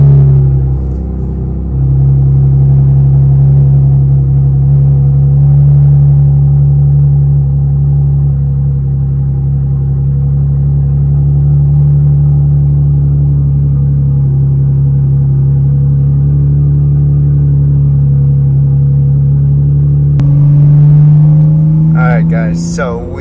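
A car on a test drive holds a steady low engine drone and road rumble, close and loud for about twenty seconds. Then the tone shifts and a voice starts talking over it.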